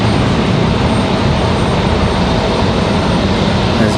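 A JetBlue airliner taxis back to the gate at Raleigh-Durham International Airport, its jet engines a loud, steady, broadband roar that stays constant throughout, close by, with no voices.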